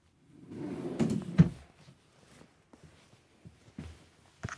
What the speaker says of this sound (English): Underneath here, you actually have a trigger to open the drawers